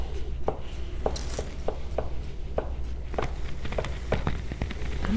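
A Shiro Kamo SG2 black Damascus 170mm santoku mincing garlic on a board, giving a quick run of crisp, close chopping taps, about a dozen sharp strikes in an uneven rhythm.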